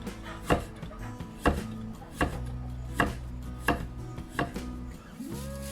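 Peeled ginger is sliced crosswise against the grain with a knife on a cutting board, about seven evenly spaced crisp chops, close and clear over a faint background hum.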